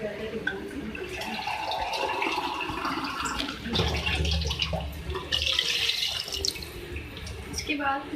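Water poured into a pot of cooking beef and bottle gourd for degi lauki gosht, a steady splashing and trickling that runs for several seconds beside kitchen clatter, while someone talks throughout.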